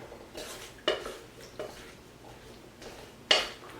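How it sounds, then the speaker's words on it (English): Sauce-coated food is stirred in a big wok, a few distinct scraping and clanking strokes of a utensil against the pan over a quiet background, close and fairly soft. "It's nice to have a big wok so that you can easily mix everything."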